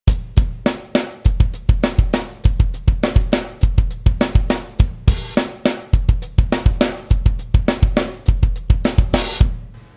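Drum kit playing a flipped Afrobeat groove that leans toward a rock beat, with steady punchy kick and snare hits and bright cymbal wash, loud and close, continuing alone for the whole stretch.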